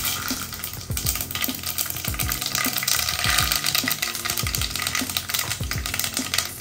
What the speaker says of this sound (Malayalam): അപ്പോൾ ഞാൻ ആദ്യം ഇട്ട് കൊടുക്കുന്നത് കടുക് കേട്ടോ.